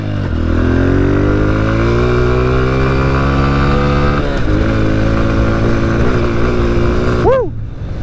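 A Honda CRF125 dirt bike engine screams at full throttle, loud and close, its pitch climbing through gears before a sharp rev near the end.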